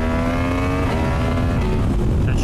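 Ducati Panigale V4 motorcycle fitted with an Akrapovic exhaust, its engine droning loud and close with a steady harmonic tone that shifts pitch slightly, with no talking.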